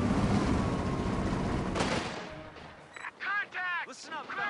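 Heavy gunfire and artillery booms in the video game Company of Heroes 2 during the Ardennes Assault fight at Eschdorf, a loud dense barrage that fades, followed by shouted voices.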